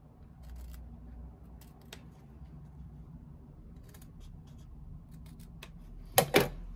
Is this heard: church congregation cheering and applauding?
no